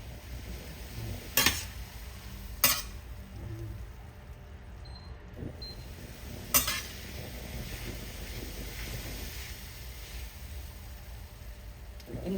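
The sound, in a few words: stirring bitter gourd (ampalaya) in a pan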